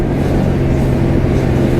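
A 2013 Maserati GranTurismo engine drones loudly and steadily with a deep throaty rumble, heard up close without any talking.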